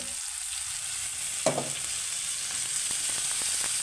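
Pakal fish dropped into a hot pan with tomatoes, one sharp splash-like hit followed by a steady loud frying hiss and light scraping, close with no talk.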